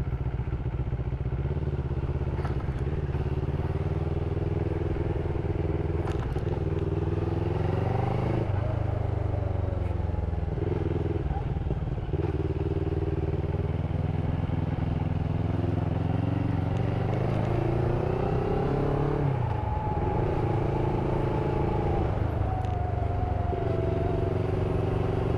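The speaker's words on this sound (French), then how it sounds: "Les petits retours à l'échappement là, bien sympa." A CFMOTO 650NK motorcycle engine rumbles steadily while riding, its pitch rising and falling through gear changes and throttle, with small exhaust pops and crackles on deceleration, loud and close throughout.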